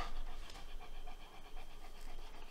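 A pet dog pants steadily and close by indoors, quick rhythmic breaths running through the whole short stretch with no talk over them.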